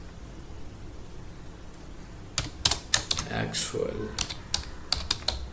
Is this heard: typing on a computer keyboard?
yes